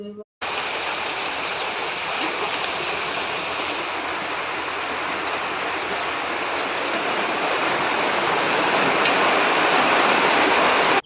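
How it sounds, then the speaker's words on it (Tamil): Heavy rain pours down steadily and loudly, a dense, continuous hiss of falling water that stays strong from start to finish with no voices over it. "மழை வந்துருச்சு"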